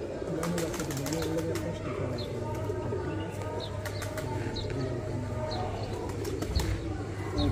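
A flock of pigeons coos steadily close at hand, with a dense, continuous murmur broken by occasional wing flaps. Someone speaks over it.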